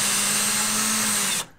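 A power drill driving screws into climbing foot holds, a loud steady whirring buzz held close for over a second before cutting off abruptly.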